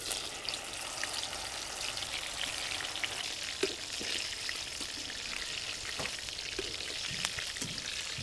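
Soybean chunks deep-frying in hot oil, with a continuous bubbling crackle and scattered small pops at an even, moderate level.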